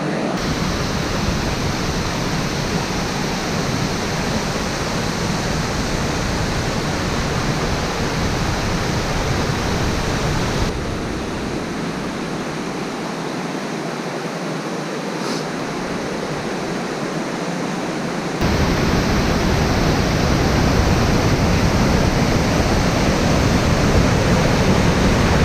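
River rapids roar in a loud, continuous broadband rush of whitewater on a fly fishing trip, heard up close and steady throughout.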